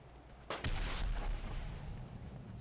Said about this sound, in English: We can't fight with this cannon fire coming down.